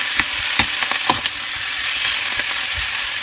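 Pork curry and potato are mixed in a hot pan, giving a steady close frying sizzle with a few quick spoon scrapes and knocks near the start.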